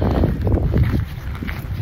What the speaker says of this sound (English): A little bit of wind now.